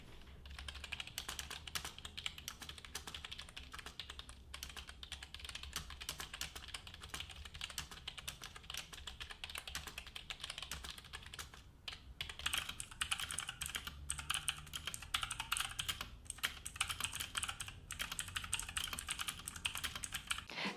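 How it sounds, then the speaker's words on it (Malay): Continuous typing test on a budget Marvo K650 keyboard with non-mechanical switches, a steady patter of soft key clicks and taps with no voices. "Sekarang saya akan buat typing test."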